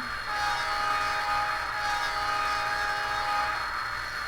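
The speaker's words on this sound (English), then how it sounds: "Now, can you guys hear that locomotive?" A model train locomotive's steady, sustained horn sounds at moderate volume, holding one tone for several seconds without a break.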